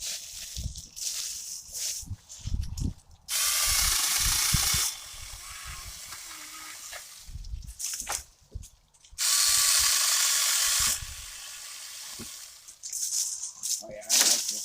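A Saker 20V mini chainsaw cuts a roughly 3.5-inch popple log in two loud, steady bursts of buzzing hiss, with people talking and rustling before, between and after the cuts.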